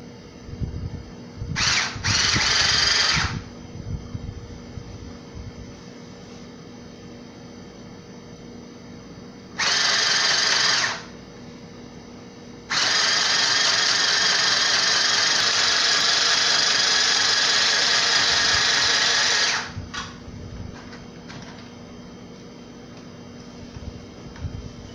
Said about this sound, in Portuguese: Medida feita, vamos para a máquina de costura.